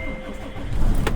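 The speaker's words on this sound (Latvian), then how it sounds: "darbinam klāt, sildam mašīnu" A Scania truck engine turning over and catching, a short rising rumble that grows louder toward the end, close by and loud.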